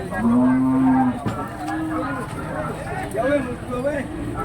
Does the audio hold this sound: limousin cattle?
yes